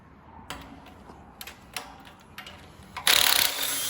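A hand ratchet works bolts loose on an MD dryer during a service overhaul, clicking in separate bursts close by, then a louder, harsher grinding rattle near the end.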